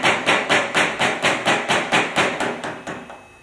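Roughly a dozen evenly spaced metallic taps strike the end of a Honda CRF50 suspension spring to unscrew it, loud and close at a steady rhythm, fading slightly toward the end, with no talking.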